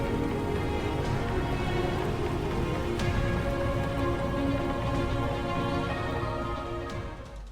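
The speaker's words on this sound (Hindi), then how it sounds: "तो तमिलनाडु में बारिश हो रही है" Steady heavy rainfall in Tamil Nadu, a dense continuous patter of rain on surfaces that holds even throughout and eases slightly at the end, with no voices.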